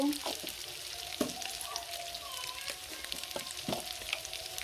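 Onions fry in a pan with a continuous close sizzle, broken by several sharp clicks and scrapes of stirring.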